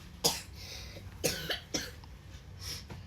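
A child coughs in four sharp, separate bursts spread over a few seconds, fairly close, with faint room noise between them and no talking.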